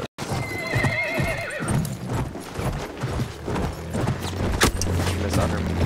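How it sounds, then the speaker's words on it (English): A horse in the Battlefield 1 video game neighs and whinnies loudly, with clip-clop hoofbeats of a gallop and faint mechanical creaks under the busy game battle noise. "Don't worry, I got a horse."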